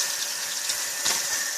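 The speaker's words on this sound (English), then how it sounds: "And then you go wash your hands and wash like the fork that you use to mix with, and add water to it and scrub it." Tap water runs steadily into a sink while hands and a fork are washed and scrubbed, a close continuous gush with small splashy shifts.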